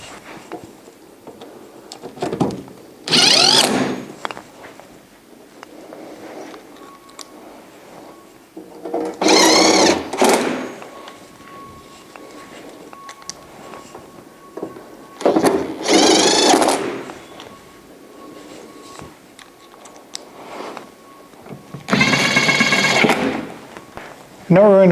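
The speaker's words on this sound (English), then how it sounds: "attach it using the 4 screws you removed before" A screwdriver whirs in four separate bursts, fastening the four screws of the control access cover on a Santa Fe Max Dry Dual XT dehumidifier. Quieter handling noise fills the gaps between the bursts.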